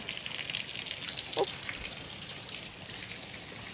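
Water gushing and pouring steadily into a tank, a faint continuous hiss and splash at a distance with a brief gurgle partway through.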